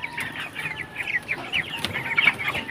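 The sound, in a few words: chickens clucking on a farm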